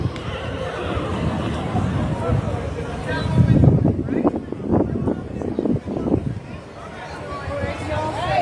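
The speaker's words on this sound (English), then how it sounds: "Missed the horse there, but we've got another one coming down." A horse whinnies loudly and shakily from close by amid outdoor crowd noise at a strawberry festival parade in North Carolina, with a few more neighing bursts following.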